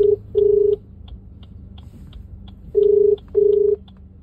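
Phone call being placed: a single steady ring tone sounds in two long paired bursts, with short faint dialing beeps scattered between them over a low background hum.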